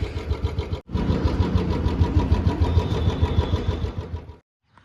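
A new Royal Enfield Bullet 350 ES motorcycle engine thumps close by after a brief pause, with a steady, loud single-cylinder beat and slight revving before it cuts off.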